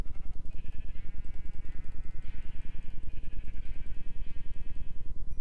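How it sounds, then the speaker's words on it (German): Sheep in Minecraft bleating several times in wavering, nasal calls, heard over a constant rapid rhythmic thumping pulse that runs throughout. "Ist das Schaf hier drinne?"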